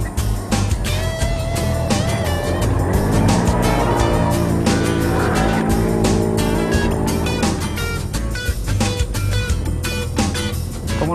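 A Can-Am Outlander Max XT 1000 ATV engine revs loudly and close while riding, its pitch rising and falling through throttle changes over steady rumbling, with rattles and bumps from the terrain.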